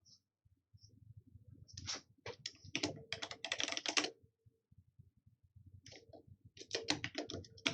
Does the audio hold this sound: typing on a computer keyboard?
yes